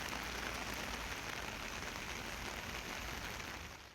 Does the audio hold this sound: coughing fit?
no